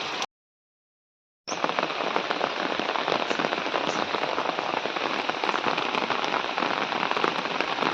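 Heavy rain pours steadily over paddy fields, a dense close hiss of drops that cuts out briefly near the start and then returns loud and unbroken.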